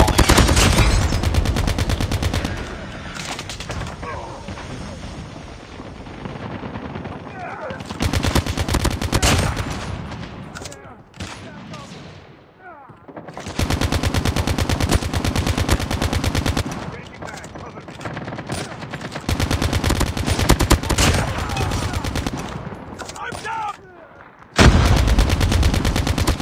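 ICR-1 assault rifle fire in Call of Duty Mobile comes as loud, rapid automatic bursts, close and repeated, separated by brief pauses, with occasional game voice announcements.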